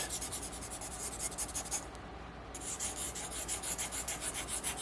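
Pencil sketching on a wooden barn quilt board, quick rhythmic scratchy strokes in a steady back-and-forth pattern, close and clear, with one brief pause midway before the scribbling resumes.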